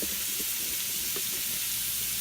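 Red fish pieces frying in a pan make a steady, close sizzle with broadband hiss throughout and a few soft crackles. No voice is heard.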